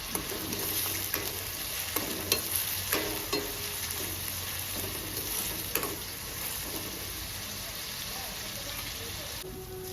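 Onions with curry leaves fry in a pan for a mutton and cucumber curry, a continuous hissing sizzle broken by regular scraping strokes of a spoon stirring, with a faint voice in the background.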